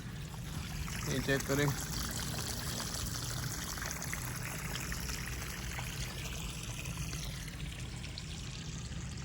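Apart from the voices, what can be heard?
water flowing through garden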